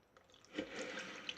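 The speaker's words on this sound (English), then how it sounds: "So I'm taking my sieve and I'm going to pour" Liquid for a pure rose soap is poured through a sieve, giving a soft, brief trickle and splash that swells midway and stays faint.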